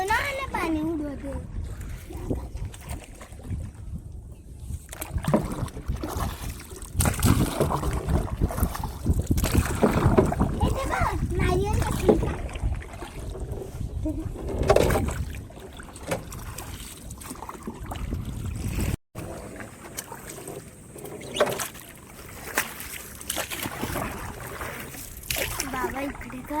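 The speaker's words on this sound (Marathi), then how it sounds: "चिव नको पाणी उडव. कोणाला पाणी उडवते" A child splashes river water during a swim, the gurgles and splashes mixed with wind buffeting and people talking close by.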